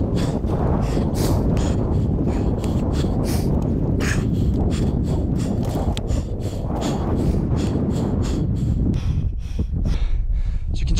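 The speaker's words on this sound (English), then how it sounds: "up here I'm going to get out of this wind. It's pretty cold." Cold wind buffeting the microphone on an exposed hill summit in the Pentlands, a loud continuous roar with gusty rumbles and crackles throughout.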